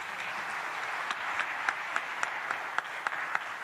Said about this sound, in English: A round of applause to Her Excellency Dr. Samia Suluhu Hassan